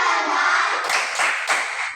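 Schoolchildren chanting a rhythmic cheer together in a classroom, their voices followed by three sharp, evenly spaced clap bursts near the end.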